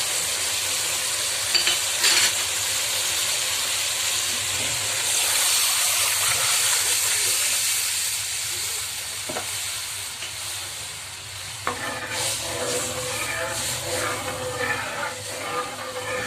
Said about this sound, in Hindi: अब इसमें जो हमने बैटर बनाया था दही और पानी और बेसन का, अब वो हम इसमें डालने लगे हैं।